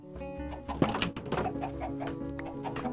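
Chickens clucking in the Minecraft video game, a few short bursty clucks over steady tonal game music, moderately loud and close.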